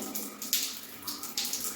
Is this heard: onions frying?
no